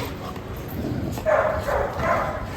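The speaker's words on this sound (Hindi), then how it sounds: "अब कौन भौंक रहा है" A dog, likely among several female dogs kept outdoors, gives three close, loud barks in a row over steady background noise, with no talk.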